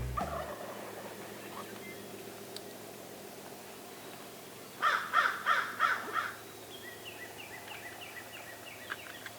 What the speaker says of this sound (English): this north side here has 2 or 3 toms gobbling and some hens and stuff over here